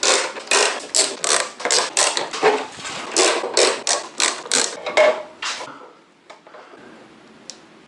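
Side cover screws being driven back into a Kawasaki Versys 650 motorcycle, a rapid series of loud, close ratcheting clicks in steady bursts for about six seconds, then a few faint scattered taps.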